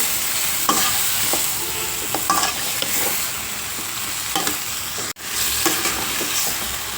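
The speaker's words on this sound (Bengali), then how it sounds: "তারপরে মাংস আমি এখন ভুনিয়ে নিব" Chicken offal is stir-fried bhuna-style in a pan, giving loud, continuous sizzling with repeated scraping and stirring strokes, cut by a brief silent gap before the frying resumes.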